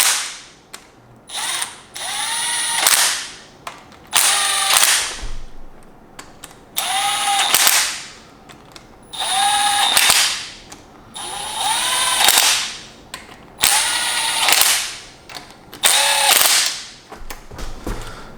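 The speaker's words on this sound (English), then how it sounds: "You can use a small electric impact very carefully just to tighten them all the way down" A small electric impact wrench tightens the front cover bolts on an SR20 engine, firing about seven sharp, rattling bursts of a second or so each, separated by short pauses.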